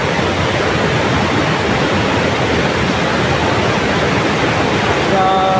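Muddy floodwater pours over the old Wawa Dam in Montalban, Rizal, during a typhoon, making a loud, constant, broadband roar that stays unbroken from start to finish.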